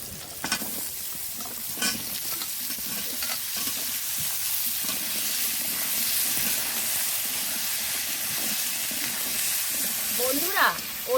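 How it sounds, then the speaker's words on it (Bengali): Potatoes and kohlrabi frying in a pan for a rohu fish curry give a steady, soft sizzle and hiss, with occasional scrapes and clinks of stirring, close and fairly quiet throughout. "আলুটা অনেকক্ষণ ধরে ভেজে নিয়েছি এবার দিয়ে দেবো ওলকপি"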